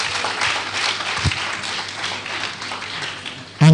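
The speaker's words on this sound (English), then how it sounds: "So clap for yourself again." Graduates of an elder care aides training program clap for themselves at their graduation ceremony, a steady sustained patter of many hands filling the room, with a brief louder burst at the end.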